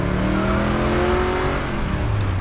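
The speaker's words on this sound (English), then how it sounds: "We just lit up the tires" A 1969 Chevelle SS roars through a burnout, its engine droning at high revs while the rear tires spin and squeal, loud and close and steady throughout, with no talking.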